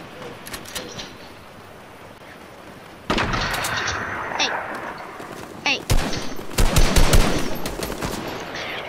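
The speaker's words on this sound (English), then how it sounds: "Once again, I'm missing all my shots" Gunfire in Fortnite on PC: after a quiet stretch, sharp shots break out and turn into dense, rapid bursts of automatic fire, loud and close, with a brief pause between volleys.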